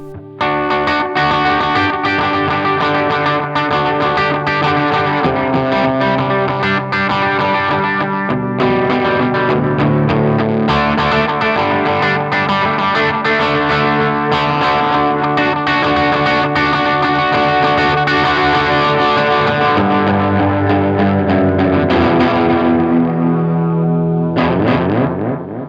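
Electric guitar run through an analog chorus modulation pedal, lush and shimmering with warbling detuned sustain, played continuously and loud as rolling chords and notes with no talking.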